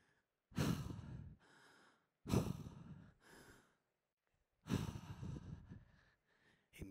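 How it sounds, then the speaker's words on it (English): Heavy, audible breaths close up: three loud inhale-exhale cycles, each a long rush of air followed by a quieter exhale, separated by pauses, during a festival talk. "Hear me breathing."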